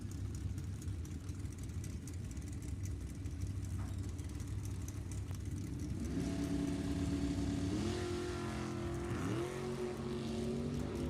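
Drag race between a 1965 El Camino and a 2001 Suncoast Chassis dragster: a steady engine rumble builds, then engines rise in pitch through several gear changes, loud and sustained, heard from trackside without talk.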